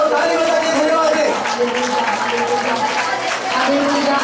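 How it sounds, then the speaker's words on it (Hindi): A congregation claps during a Hindi-language Easter Sunday church service. Dense, steady clapping fills the room and mixes with voices and singing. "ताली बजा के धन्यवाद दे।"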